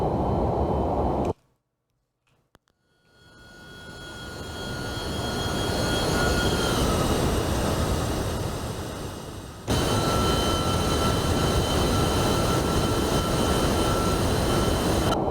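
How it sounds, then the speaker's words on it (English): MD-11 airliner jet engines roaring steadily during a fast climb in a flight simulator game, rising out of a brief silence into a loud sustained drone with whining tones, a short dip, then full roar again. "And this airplane does climb like a rocket."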